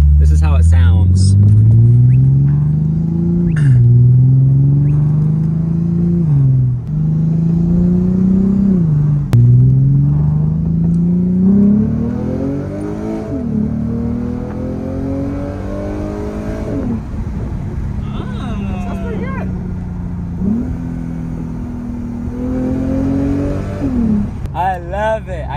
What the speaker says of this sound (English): So now we are going to take Cardin's car for a drive with no exhaust past the axle. This is how it sounds.